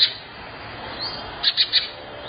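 House sparrows in a village chirp in a short cluster of three quick calls over a steady outdoor background hiss.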